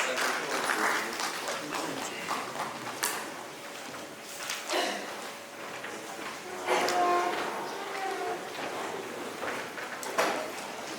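An audience at a principals' conclave applauds a guest speaker, with uneven rounds of clapping that swell and ebb. Scattered voices and the knock of movement come through underneath.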